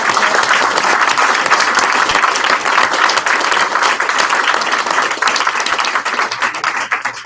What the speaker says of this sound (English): Let's have a round of applause for every one of our presenters.